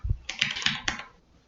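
Several quick keystrokes clatter on a computer keyboard close by, then the typing stops and it goes quiet.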